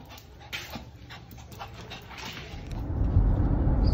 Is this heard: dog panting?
yes